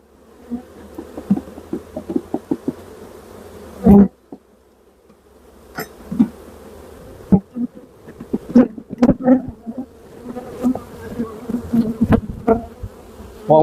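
A honeybee swarm buzzes close by in a steady drone as bees enter a nuc box, with occasional individual bees zipping past the microphone and some clicks and knocks.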